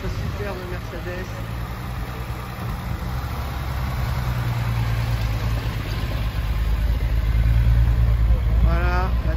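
Vintage Mercedes 220 SE at an outdoor old-car gathering, a steady low engine rumble running close by and growing slightly louder, with someone talking over it and faint crowd noise behind.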